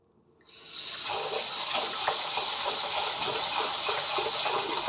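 Soybeans for tempeh being washed in water: after a brief quiet start, a steady, close rush of running or sloshing water continues with small splashy bumps and no talking.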